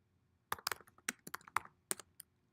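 Keystrokes on a computer keyboard, typed close by in quick irregular bursts of clicks with short pauses between them and no voices.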